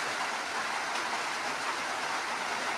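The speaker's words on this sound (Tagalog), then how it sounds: "Lakas kasi ng ulan eh." Heavy rain pours steadily outdoors as a dense, even, broadband roar that stays loud and unbroken throughout, with no voices over it.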